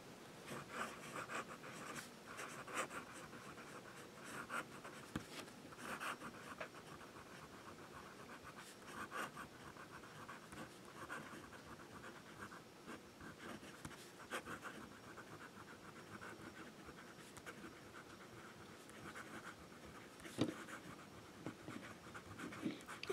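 Fountain pen nib of a Ranga Monterey scratching across paper, quiet and close with irregular soft strokes and small taps continuing steadily, no voices over it.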